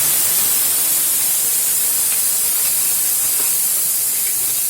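Cooked rice sizzling as it is sautéed in a hot pan with fried chickpeas: a steady, loud, bright hiss that runs without a break throughout.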